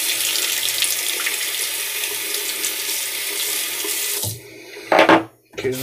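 A tap runs steadily for a rinse with a close, hissing water stream, then cuts off, leaving a short gurgle and splash before a brief burst resumes.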